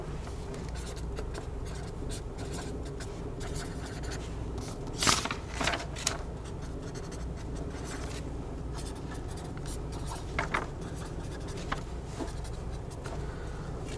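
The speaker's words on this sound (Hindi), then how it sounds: "मैं वापस ये चीज पीछे लिख रहा हूं।" Pen scratching steadily on paper as a maths solution for a real-numbers exercise is written out by hand, close and fairly quiet, with a few sharper strokes and taps against a low constant room hum, no talking.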